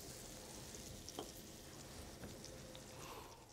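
Veal slices hit hot butter in a pan and fry with a continuous soft crackling sizzle, a few brief pops rising from the steady hiss, quiet and close.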